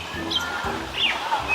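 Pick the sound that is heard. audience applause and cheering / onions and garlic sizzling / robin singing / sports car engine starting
robin singing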